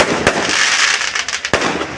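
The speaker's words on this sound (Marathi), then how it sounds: "फटाके" Firecrackers go off at a village fair: two sharp, loud bangs about a second apart over a continuous crackling, hissing fizz.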